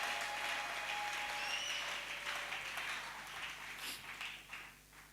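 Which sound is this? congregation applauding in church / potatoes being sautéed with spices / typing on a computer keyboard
congregation applauding in church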